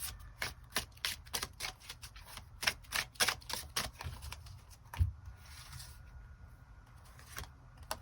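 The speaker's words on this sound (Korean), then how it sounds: "조언의 카드들 몇 장 더 뽑아보도록 하겠습니다" Tarot cards shuffled and drawn at close range: quiet, crisp flicks and taps arrive in irregular bursts, with a soft thump midway and a few sparse snaps as the cards are laid out.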